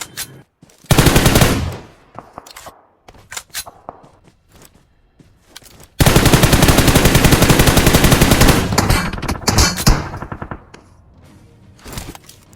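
Bursts of automatic gunfire in a mobile battle royale game, starting with a short volley, then scattered single shots and brief pauses before a long, loud sustained rattle of rapid fire that tails off into a few sparse shots.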